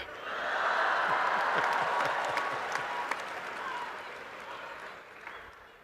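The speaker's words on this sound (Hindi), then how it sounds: "जैसे जैसे समय आता जाए ताली बजाते जाइए।" A large audience at an Art of Living gathering in Bengaluru breaks into dense, sustained applause that swells quickly and holds loudly before slowly tapering off.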